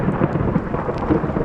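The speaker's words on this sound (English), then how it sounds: "it got darker and the thunder was smashing" Thunder rolls through a coastal storm at West Wemyss, a loud, continuous low rumble mixed with the hiss of rain and wind, filling the whole moment without voices.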